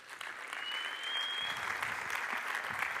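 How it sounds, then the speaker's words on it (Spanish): Audience applause for a speaker being welcomed on stage at a talk about the metaverse, a dense, steady wash of clapping across the whole stretch with a thin faint tone running above it. "por favor, un fuerte aplauso para Edu Herranz"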